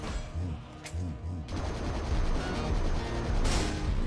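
Rapid bursts of gunfire from a PUBG Mobile boss fight against Dracula, with the shots coming in dense, loud volleys that build through the clip alongside game effects.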